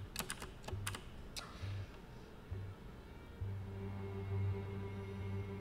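Typing on a computer keyboard at a desk during game engine programming: a quick, close run of crisp key clicks, then a faint steady hum with no further keystrokes.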